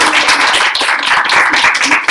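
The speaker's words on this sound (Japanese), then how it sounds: "拍手ください。" A crowd claps at a Japanese lecture, dense and continuous applause right up close and loud, with rapid uneven hand strikes and no speech over it.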